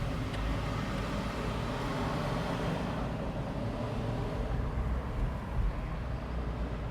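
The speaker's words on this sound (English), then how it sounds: "So you see, we still have traffic here." Steady road traffic in Miami, a continuous low rumble of passing cars that stays even and fairly loud throughout with no voices.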